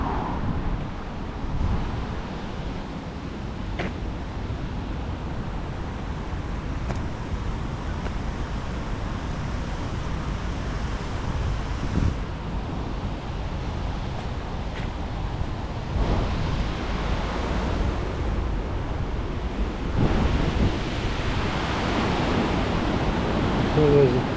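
River water pours over the horseshoe weir at Belper River Gardens on an autumn day, a steady, dense broadband rush that stays even throughout, with some wind noise over the microphone.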